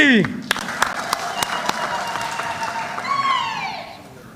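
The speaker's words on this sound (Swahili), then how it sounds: "Makofi kwa SG." Applause rises to welcome the Secretary General at a Narc-Kenya national delegates convention: a crowd claps steadily under a loud, echoing voice on the PA, and the clapping fades out near the end.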